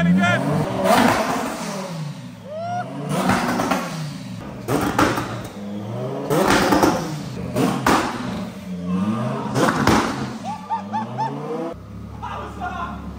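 A Lamborghini with crash damage revs hard as it downshifts with rev-matching at speed, giving repeated rising engine bursts under excited talk and laughter from people inside the car.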